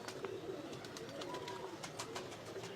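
Soft cooing of a crossbred pigeon repeats a few times over low background rumble, with no voices.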